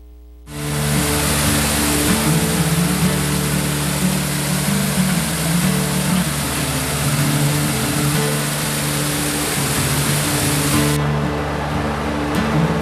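Taughannock Falls roaring in full flow after heavy rain, a dense, steady broadband rush that holds loud and unbroken for about eleven seconds before thinning slightly near the end.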